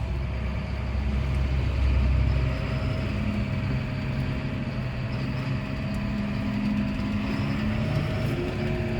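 A John Deere 6215R tractor of about 250 horsepower drives along at roughly 15 km/h, its engine a steady, moderately loud droning rumble with a faint whine that holds unbroken throughout.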